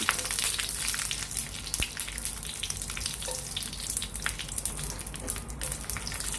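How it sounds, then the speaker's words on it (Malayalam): Dried red chillies fry in two spoons of hot oil in a heated pan for tomato chutney, giving a steady dense sizzle with crackling pops throughout, close and fairly loud, with no talk. "ആദ്യം നമുക്ക് വറ്റൽമുളക് ഇട്ട് കൊടുക്കാം."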